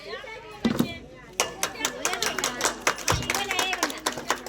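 People clap at an Ambedkar Jayanti gathering with a garland offering at the statue, a run of close, uneven handclaps under a voice speaking over them.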